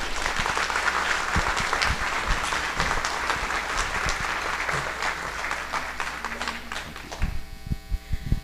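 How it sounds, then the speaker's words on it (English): A university audience at a Family Day event applauds its president, a broad sustained wash of clapping that holds steady for several seconds before thinning into scattered claps near the end, with a low hum beneath. "Let's give another round of applause to our wonderful president."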